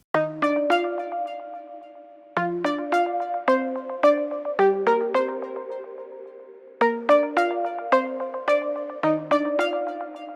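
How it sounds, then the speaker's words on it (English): Bright plucked synth chords repeat in a steady rhythmic pattern, short bell-like attacks stacked in layers, with brief pauses between phrases. "Let's add the synths for the chorus."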